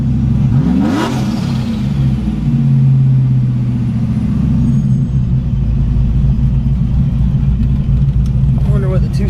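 Procharged Trailblazer SS engine rumbles loudly, with a sharp rev sweep near the start and then a heavy, steady idle-like drone, while voices talk over it.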